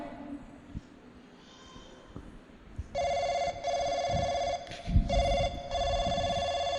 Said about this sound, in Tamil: சரி, நம்ம ஃப்ரெண்டுக்கு ஃபோன் அடிப்போம்.